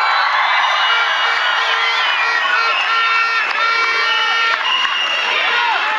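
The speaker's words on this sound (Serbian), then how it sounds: "Jedan veliki aplauz za Tijanu Bošković." A large crowd cheers and applauds for volleyball player Tijana Bošković at a Serbian world title celebration, a loud continuous roar of clapping and shouting with high whoops throughout.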